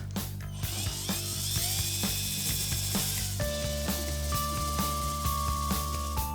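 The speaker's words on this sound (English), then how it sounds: "we're gonna drill 3 holes just to secure that cattle tag" A small power drill whines in short bursts against a turtle shell, with rapid mechanical ratcheting clicks running steadily throughout, close up.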